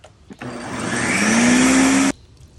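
A loud, steady motorized whir of a blender pureeing brisket sauce starts abruptly, holds for about two seconds with a rising pitch, then cuts off sharply.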